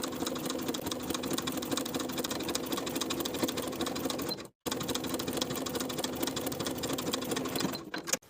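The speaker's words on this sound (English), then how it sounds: "I'm going to be sewing a rolled hem using a 6mm spiral hem foot" A sewing machine with a 6mm spiral hem foot runs a rolled hem, with a loud, rapid, steady stitching whir that cuts out briefly midway and stops near the end.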